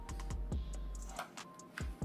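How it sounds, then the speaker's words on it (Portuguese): Typing on a HAVIT mechanical keyboard with red switches, RGB lighting and an aluminum top plate, giving a quick run of crisp, close key clacks in an uneven rhythm. "esse aqui é o teclado mecânico da HAVIT"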